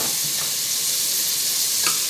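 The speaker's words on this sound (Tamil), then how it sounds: "அதோடு சின்னதாக வெட்டிருக்க தக்காளியும் சேர்த்து அதையும் கொஞ்சம் வதக்கிக்கொள்ளணும்" Finely chopped tomatoes sautéing in a pressure cooker for biryani, a loud, dense, close-up sizzle that hisses steadily throughout the short stretch.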